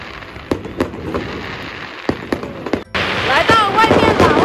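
Lantern Festival fireworks going off outdoors: scattered sharp pops and bangs at first, then a dense, continuous crackling barrage, with people's voices nearby.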